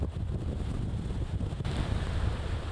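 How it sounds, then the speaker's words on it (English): Strong Hurricane Michael wind gusts roar steadily against the microphone outdoors, a loud, unbroken rushing that surges slightly, with no voices. "You'll have a couple seconds there where the gust will die down, and they just come right back at you."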